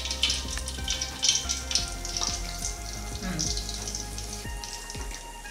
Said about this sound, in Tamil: இதை எண்ணெயில் போட்டு பொரிச்சு எடுப்போம்